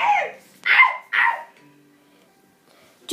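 A wolf in Minecraft barking: three short, sharp yelping barks in quick succession, close and clear, followed by quiet.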